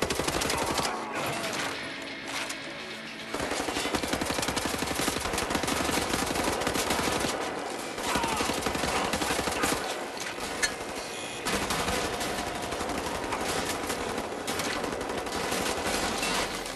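Dense, rapid gunfire from Wolfenstein: The New Order comes in long bursts of loud automatic shots, broken by brief pauses, with a voice faintly underneath.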